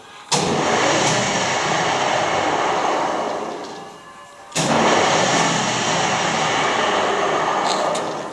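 A homemade combination woodworking machine with a saw blade starts up twice, the second time in reverse, each start jumping straight to a loud, steady broadband whirring hum that runs on without a break.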